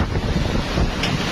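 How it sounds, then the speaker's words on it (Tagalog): Large sea waves crash on the coast at Virac, Catanduanes, as a dense, roaring wash of surf mixed with strong wind buffeting the microphone, loud and continuous. "Ang lalaki ng alon, no?"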